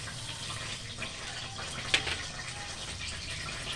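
Water poured from a half bowl into a pan of Healux cookware while making suji laddu, a soft, steady splashing fill with one brief louder splash, heard alone at close range.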